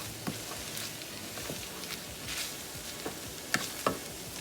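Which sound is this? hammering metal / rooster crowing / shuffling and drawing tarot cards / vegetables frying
vegetables frying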